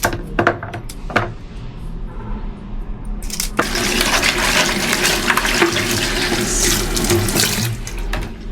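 Water gushes steadily from a kitchen tap into a sink, a constant broadband rush that starts after a few seconds of light clinks and taps, then runs loud and unbroken to the end.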